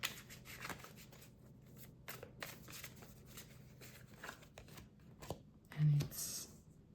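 Tarot cards being shuffled by hand in a love reading, soft papery riffling and brushing bursts repeating through the stretch, fairly quiet, with a voice speaking over parts of it.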